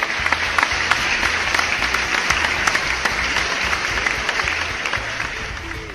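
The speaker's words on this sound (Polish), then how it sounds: "Dla Was oczywiście wielkie brawa" Steady applause rolls on for several seconds, dense and even, with a low rhythmic thumping beneath it.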